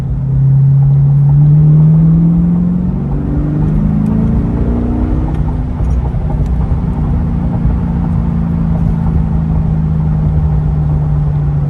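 Corvette C8 with Fab Speed exhaust on a cold, snowy day, a loud deep rumble that swells in an early rev then settles into a steady throaty drone close by, with no talk.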